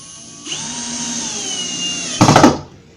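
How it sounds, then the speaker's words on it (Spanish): A power drill whirs up and drives screws into wooden modular shelves in a steady close whine, then ends with a short burst of harsh grinding clatters as the screw seats, before cutting off. "y apretamos nuestros tornillos."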